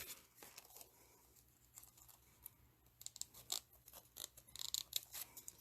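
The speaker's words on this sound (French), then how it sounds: "je vais juste sortir mes petits ciseaux" Small scissors snip close by in quiet, crisp clicks, sparse at first and then quicker and more frequent toward the end.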